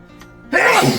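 A single close, forceful sneeze erupts midway through an indoor snack tasting, with a sharp broadband burst following a quiet lead-in.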